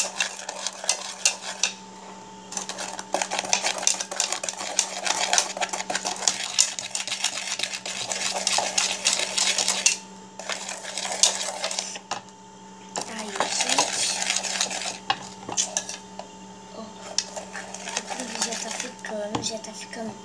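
Thick brigadeiro mixture is stirred in a pan with a utensil, giving repeated clattering scrapes and metallic clinks in bursts with short pauses, while a voice talks at times.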